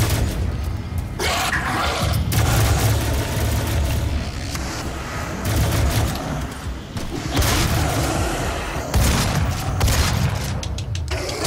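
Rapid bursts of gunfire and heavy booms fill a DOOM level on Xbox One at Nightmare difficulty, with dense, loud volleys that are near and sustained and rise again in waves.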